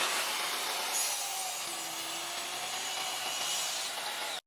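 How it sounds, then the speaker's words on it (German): Mitre saw cuts through wood with a steady high whining buzz that holds for about four seconds and stops abruptly, close and fairly loud. "Ich habe gerade zum allerersten Mal diese Säge benutzt."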